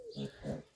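A piglet gives two quick little oinks in succession, close and fairly soft.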